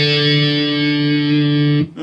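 Distorted electric guitar rings out a sustained, heavily driven chord from a song's riff, loud and close, then cuts off abruptly near the end.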